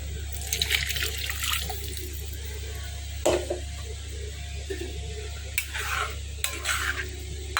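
Water from boiled spinach poured into a blender jar while making palak paneer, a steady splashing, gurgling stream with a few louder sloshes, close by and fairly quiet.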